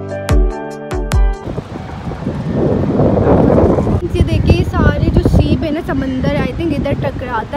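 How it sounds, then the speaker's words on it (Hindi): Strong seaside wind buffets the microphone with a steady roaring rumble that fills most of the clip, while people talk over it. "इतनी हवा चल रही है"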